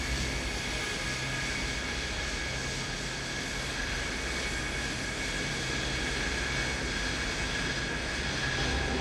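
A Lockheed SR-71 Blackbird taxiing to the runway, its engines giving a steady, loud, unbroken roar and whine from start to end.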